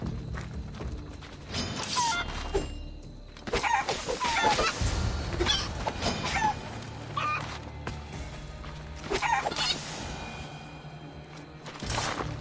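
Chickens clucking in the video game Assassin's Creed Odyssey, busy repeated clucks and squawks over a steady game ambience with occasional louder bursts.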